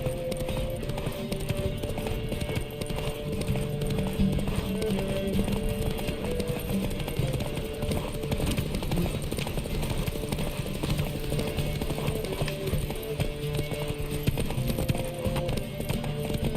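Horse hooves clip-clop in a steady galloping rhythm in The Witcher 3, close and continuous over game music and ambience for the whole stretch.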